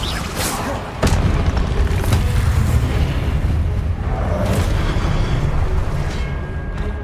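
Confringo blasting-spell explosion in a Harry Potter video game: a sudden boom that opens into a long, loud rumbling roar of crackling debris, sustained and dense throughout.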